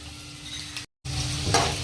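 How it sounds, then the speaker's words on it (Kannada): About a teaspoon and a half each of urad dal and chana dal fry in hot oil, giving a brief close sizzle with light stirring, briefly cut to silence midway. "ಈಗ ಉದ್ದಿನಬೇಳೆ ಮತ್ತು ಬೇಳೆ ಕೂಡ ನೋಡ್ರಿ ಒಂದು ಸ್ವಲ್ಪ ಆಗೋ ಥರ ಫ್ರೈ ಮಾಡ್ಕೊಳ್ಳೋಣ್ರಿ"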